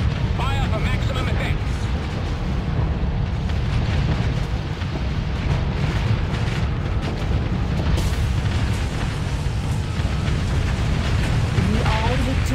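Ship weapons fire continuously in a Starsector space battle, a dense, loud rumble of booms and explosions rolling on without pause.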